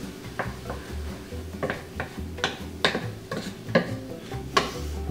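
Oregano, salt, black pepper, cumin and lime juice stirred together in a bowl as filling seasoning for papas rellenas, a run of light spoon clicks and taps against the dish, close and fairly quiet, with no voices.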